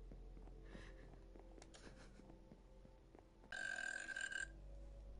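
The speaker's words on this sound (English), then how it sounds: "Did you just seriously burp into the mic?" A single loud burp into a gaming microphone during a Minecraft session, a raspy burst of about a second standing out over faint background game noise.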